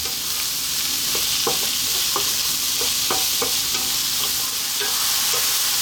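Mushrooms fry in a pan, a steady bright sizzle running throughout while a utensil scrapes and stirs in repeated clicks and scuffs, close and alone with no voices.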